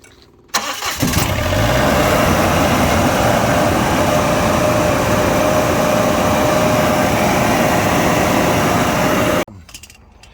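A Cummins Onan 7500 W generator, just repaired after an oil leak, starts abruptly and runs at a loud, even, steady drone for about nine seconds, then cuts off sharply into quiet.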